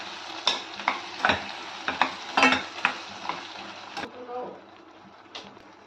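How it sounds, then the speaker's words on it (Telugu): Spices being stirred into a cauliflower masala curry in a pan, with a series of close scraping strokes and light sizzling that taper off toward the end. "మంచిగా మిక్స్ చేసుకోవాలి"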